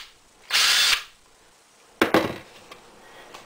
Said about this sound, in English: Boy, this thing has a lot of torque, I could tell.